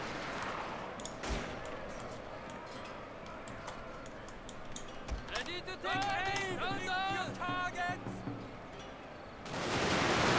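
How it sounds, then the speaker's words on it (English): Musket volleys from troops in the Fall of the Samurai strategy game, heard as scattered crackling shots and a few heavier reports among battlefield noise, with a speaking voice and faint ticking in the mix. "those guys are actually firing and actually hitting"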